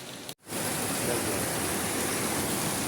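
Heavy typhoon rain from Typhoon Carina pours down as a dense, steady hiss. It cuts out briefly at the start, then returns loud and unbroken.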